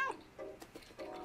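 A cat in the video game Stray gives a few faint, short meows in quick succession over quiet game ambience, with no voices.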